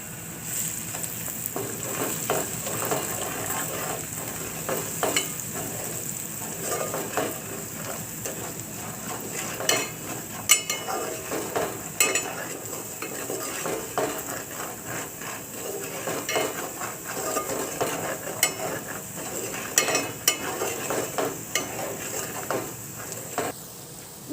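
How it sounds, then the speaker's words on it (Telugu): Chili powder, turmeric and salt being stirred into a sizzling chicken curry paste in a pan, with steady frying hiss and repeated scraping and knocking strokes of a spoon throughout. "దీంట్లో మనం కారం పసుపు ఉప్పు వేసుకుందాం ఫ్రెండ్స్ ఇప్పుడు మనం కలుపుకుందాం"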